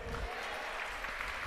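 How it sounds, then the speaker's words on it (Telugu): A church congregation claps together in a short burst of applause, a dense, even patter at moderate distance with no voices over it. "సంతోషం ఉంటే చప్పట్లు కొట్టండి"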